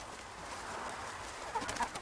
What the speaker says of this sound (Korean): 닭들의 아침 운동 시간.